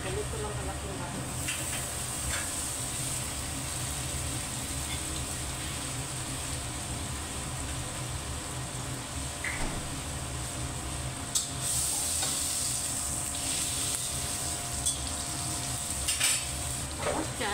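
Butter melts in a pan with a soft, continuous sizzle and hiss, broken by light clinks of a utensil stirring, with a faint voice present in the background.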